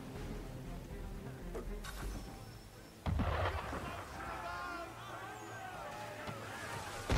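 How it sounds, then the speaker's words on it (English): Musket gunfire and booming shots in Assassin's Creed III Remastered, set in colonial Boston, with sharp blasts standing out over a busy background of crowd noise and music. "Why is he shooting at us?"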